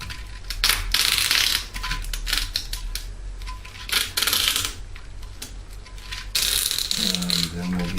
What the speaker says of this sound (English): I'm just gonna do a couple trips around this thing with the packing tape reinforced